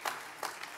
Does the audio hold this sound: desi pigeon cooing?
no